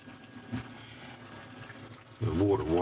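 A bilge pump drains water from a boat's flooded fuel bay, a steady low watery churn and trickle that swells louder near the end, with no one talking.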